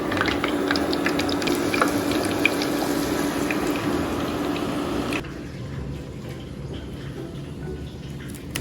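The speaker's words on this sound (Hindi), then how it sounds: "ऑलमोस्ट लास्ट बैच डालेंगे और सारे फ्राई करके वापस आएंगे।" Chicken wings for lollipop chicken deep-fry in hot oil with a continuous crackling, bubbling hiss. It sounds close and steady, then drops noticeably quieter about two thirds of the way through.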